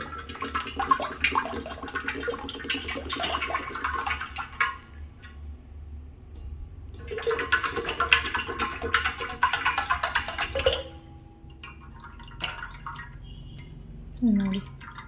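About seven litres of homemade coconut oil poured into a large pot for herbal hair oil, heard as two long bursts of liquid splashing and trickling, close, with quiet gaps and a soft clink near the end.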